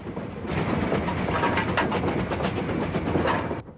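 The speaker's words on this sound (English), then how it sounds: "if this was going to be the very last steam train of all up to Mulabezi, then I was going to be on it" A steam train heads up the line to Mulobezi with rhythmic clattering and chuffing, passing fairly close and loud for a few seconds before it cuts off abruptly.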